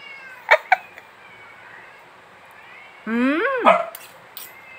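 Dogs give a couple of quick barks, then a cat lets out a long, rising-and-falling meow, close by over a quiet background, at feeding time.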